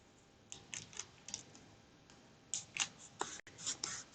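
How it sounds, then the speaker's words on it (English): Adhesive tape being pulled and pressed in place while assembling the first floor of a model house: a few faint, short crackling pulls in scattered bursts against a quiet room. "I'm going to grab my tape here. And I'm going to just tape this in place"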